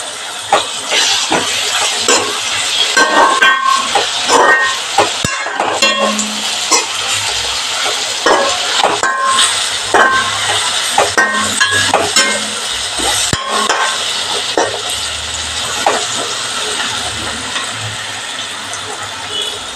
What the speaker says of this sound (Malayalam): തക്കാളി ഒന്ന് നന്നായി വഴന്ന് വരട്ടെ. ഇതുവരെ നമുക്ക് ഇളക്കി കൊടുക്കാം.